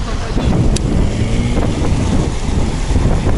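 A motorboat engine roars loud and steady through wind-buffeted open water on an autumn asp fishing trip, with boat noise filling the whole stretch.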